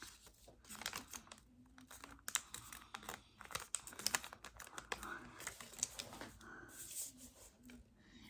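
Origami paper folded into a squirrel shape, with close, soft crinkles, creases and rustling taps in irregular bursts, quiet throughout.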